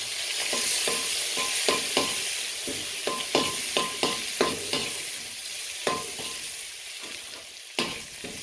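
Chili and garlic stir-fried in a pan for a Thai dish, with a steady close sizzle and repeated sharp scrapes and taps of a spatula stirring at an irregular pace.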